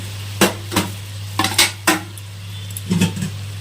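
Pumpkin pieces being stirred in a pan with garlic, salt, turmeric and sugar, heard as a handful of sharp, close metal-on-pan scrapes and clinks spaced irregularly over a steady low hum.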